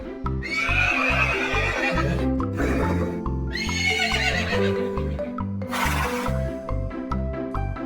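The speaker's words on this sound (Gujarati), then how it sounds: "ઘોડો કેવું બોલે?" A horse neighs three times, loud and close, each whinny rising and then falling away, over a repeating musical backing with a hint of hoof clops.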